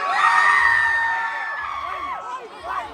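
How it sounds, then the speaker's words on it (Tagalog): A crowd of women screams and cheers at a girl-group set during a P-pop festival concert, a dense, high-pitched roar that swells early and then fades into scattered shrieks. "Lahat ng babae sumigaw!"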